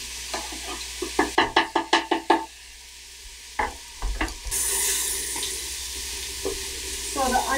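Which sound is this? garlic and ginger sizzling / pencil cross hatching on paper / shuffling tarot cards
garlic and ginger sizzling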